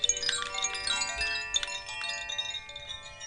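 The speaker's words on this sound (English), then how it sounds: "the other favourite that we have are these beautiful chimes" Chimes from the Pyrenees ring out in a cluster of bright, overlapping metallic tones, struck several times with shimmering decays, close and fairly soft, with no voices.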